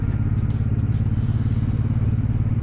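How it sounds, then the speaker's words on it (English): A Suzuki Boulevard M109 cruiser motorcycle rumbles steadily on the way to the beach, its deep engine throbbing at an even pace with wind noise on top and no talk. "The big Suzuki Boulevard, which is certainly not a bad bike for doing just a cruise like this."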